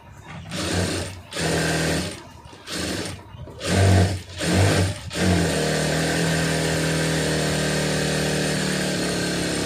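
A sewing machine stitches a neck edge in short, loud buzzing bursts with brief pauses between them, then runs continuously at a steady pace.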